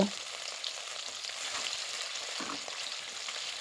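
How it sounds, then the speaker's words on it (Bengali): Rohu fish pieces fry one by one in mustard oil in a kadai, giving a steady, dense sizzle that carries evenly throughout with no voices. "দিয়ে আমি একে একে রুই মাছগুলোকে এপিট ওপিট ভালো করে ভেজে নেব"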